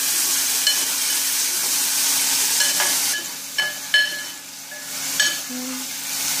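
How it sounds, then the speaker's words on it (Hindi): Tomatoes frying in a pan over a medium flame for toor dal, giving a steady close hissing sizzle broken by a few soft stirring knocks. "मीडियम फ्लेम पे टमाटर को गलने तक पका लेंगे"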